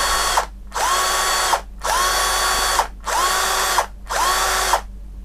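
An ASTEEL cordless battery drill with impact feature and steel chuck, run in five short bursts of high whirring with brief silent gaps between, each rising quickly to speed, close and loud.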